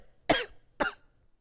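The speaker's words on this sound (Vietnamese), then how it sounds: "Buồng phía trong có tiếng động lạch cạch, tiếp theo là một cơn ho." Two sharp, separate coughs from a person in an inner room, short bursts with a brief quiet gap between them and near silence on either side.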